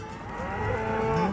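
Cattle on a grazing beef farm on the Argentine pampas give a single long, loud, close moo that swells and rises in pitch.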